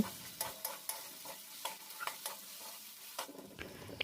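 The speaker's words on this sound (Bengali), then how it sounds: "এবার সব মশলা ভালো করে একটু মিশিয়ে নেব।" Ground turmeric, cumin, coriander and Kashmiri red chili powder fry in a pan for a spicy prawn dish, with soft sizzling and a series of distinct close scraping stirs at an uneven rhythm.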